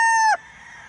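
A Lemon 84 gamefowl rooster on a farm ends a loud, close crow with a sustained tone that breaks off abruptly, leaving faint background noise.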